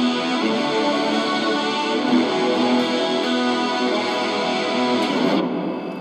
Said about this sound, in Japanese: まあディレイとリバーブ両方なんで、